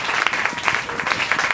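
A church congregation claps together in a dense, steady burst of applause filling a hall, brief and fairly loud, with no voices standing out.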